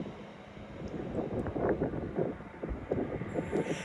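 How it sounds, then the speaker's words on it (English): A regional train pulls in at a station on the approach to London, a broad low rumble and rattle of wheels and carriages with wind buffeting the microphone, steady and fairly close throughout. "Here comes the train."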